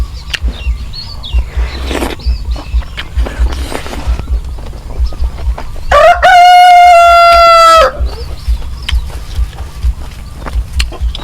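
Rooster crowing in a rural Thai village, one loud, close, drawn-out cock-a-doodle-doo lasting about two seconds, with softer clucks and chirps around it and a low background hum.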